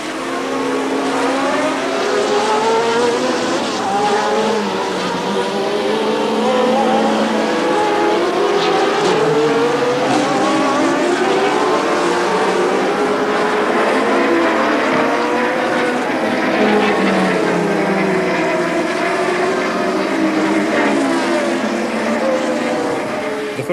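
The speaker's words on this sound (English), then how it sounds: "For several laps, the racing cars were racing." Formula 1 cars with turbocharged and Cosworth engines race at the 1982 Long Beach street circuit, a dense, continuous engine roar with overlapping pitch sweeps as several cars pass, loud throughout.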